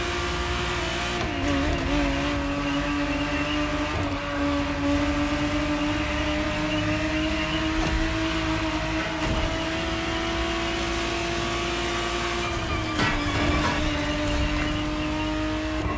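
A 1991 Ferrari Testarossa 512TR in The Crew Motorfest, its flat-twelve engine droning at steady high revs with a sustained tonal whine, loud and continuous, shifting pitch slightly around a couple of gear changes.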